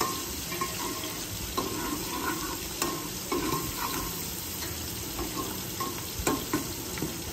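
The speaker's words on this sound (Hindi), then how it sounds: "हमने जो है ना घी भी ऐड कर दिया और प्याज टमाटर ऐड कर दिए हैं।" Onions and tomatoes frying in ghee alongside goat meat give a steady close sizzle, with a few sharp scrapes and clinks of a stirring spoon scattered throughout.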